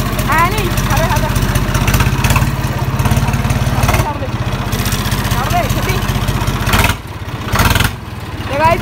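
A Swaraj 855 tractor engine with a new mesh-type silencer runs close and loud. Its fast, throbbing exhaust pulse holds steady, with brief dips and swells.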